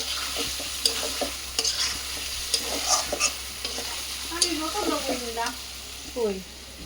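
Food stirs and fries in a pan for a lunch of bitter gourd fry, dal and chicken, with soft scraping clatters and a low sizzle under scattered bird-like chirps and faint background voices.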